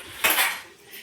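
A spoon clatters against dishes in a kitchen: one sharp metallic clink and rattle that quickly fades, close by and alone.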